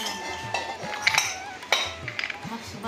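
Four thick, heavy metal cooking pots are handled at home, giving a few sharp clinks and clanks with ringing tones, spaced irregularly over quiet background.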